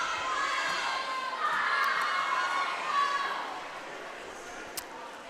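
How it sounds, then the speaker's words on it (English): Crowd noise at an indoor high school swimming championship heat during the 200-yard freestyle, a steady mid-level murmur of voices and cheering that swells briefly and then eases. "Good crowd on hand"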